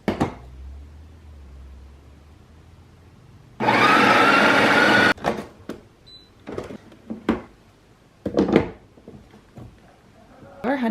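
A home espresso machine pulls a double shot, a loud steady pump hum and buzz lasting about a second and a half, then scattered clicks, clatter and short bursts of movement nearby.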